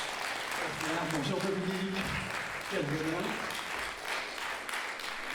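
Audience applause at a film festival screening introduction, a steady broad wash of clapping that runs throughout while someone speaks briefly over it.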